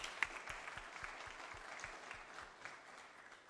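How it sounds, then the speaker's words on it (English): An audience in a marble hall at a military conference applauds the panel guests, a steady patter of many hands clapping at moderate distance that slowly fades, with a few sharper individual claps near the start. "join me in a round of applause for our guests today"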